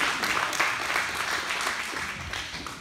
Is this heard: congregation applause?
yes